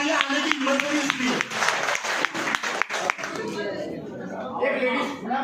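A seated audience at a product demonstration claps for Pawan Asawa, scattered sharp claps mixed with chatter and a speaking voice, thinning out after a few seconds.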